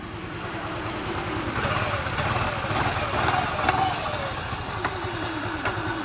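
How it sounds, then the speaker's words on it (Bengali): A repaired Yamaha motorcycle engine runs steadily near the listener, a continuous mid-pitched idle hum with small surges, under a voice speaking. "তা গাড়িটির সাউন্ডটা শোনাচ্ছি। দেখো কত সুন্দর সাউন্ড এসছে গাড়িটা।"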